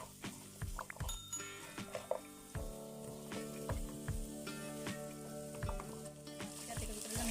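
Chicken devilled sizzles in a pan while being stirred, a quiet steady frying hiss broken by rhythmic, repeated spoon scrapes and clinks against the pan, with no talking.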